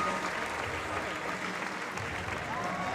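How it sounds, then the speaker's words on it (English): Sustained applause from the crowd at a women's bouldering final during a European Championship in Munich, steady and dense clapping filling the whole moment with a faint murmur of voices underneath. "So German coach is clapping."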